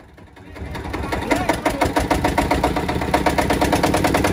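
A Field Marshal diesel engine on a jugaad vehicle starts and runs, a loud rapid rhythmic thumping that builds within the first second and then holds steady at idle, close by.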